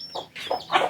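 Chickens on a backyard farm, hens with a rooster kept beside the house, clucking in three short bursts close by, with no talk.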